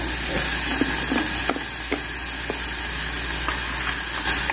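Onion dropped into a frying pan of sautéed potato leaves, giving a steady loud hiss and sizzle with a few soft stirring clicks throughout.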